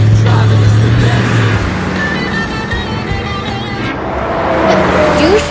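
A car driving along a road at night, a loud, steady engine and road rumble close by with a wash of broadband noise that swells slightly toward the end.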